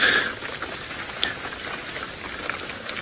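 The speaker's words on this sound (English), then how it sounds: "you can hear the pitter-patter of rain on the roof" Rain patters on the roof of a safari vehicle in the Masai Mara, a steady close hiss with a few faint individual drop taps scattered through it, with no voices.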